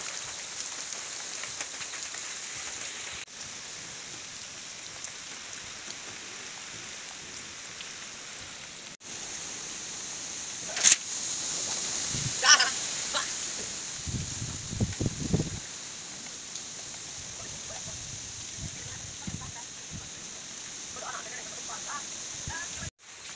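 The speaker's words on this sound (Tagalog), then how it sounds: "walang hupa talaga yung buhos ng ulan dito" Heavy typhoon rain pours down without letup on a rural Philippine farm where native pigs are kept. The downpour is a constant hiss with sharp drops striking surfaces, and muffled voices and knocks rise briefly partway through.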